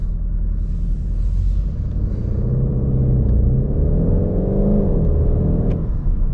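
Inside the cabin of a VW Golf 8 GTD diesel, the engine pulls hard under acceleration as a deep steady rumble with a rising drone that climbs, then drops briefly at a shift, with no voices.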